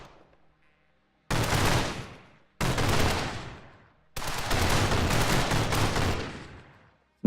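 Automatic gunfire in the shooting game The Technician comes in three loud, sustained bursts separated by short pauses, dense and close, with no voices over it.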